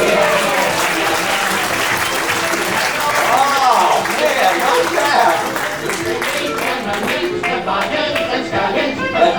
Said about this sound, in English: fling open the fabric and receive your well-deserved applause